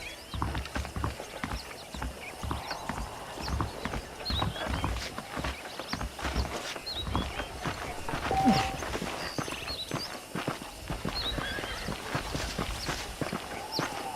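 Horse hooves clip-clop in a steady walking rhythm on hard ground in the video game Red Dead Redemption, with a brief whinny midway and faint background ambience.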